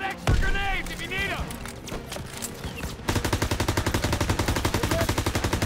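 Gunfire in the video game Call of Duty: WWII: scattered shots and shouted voices give way to a loud, rapid, evenly spaced machine-gun burst that runs steadily to the end.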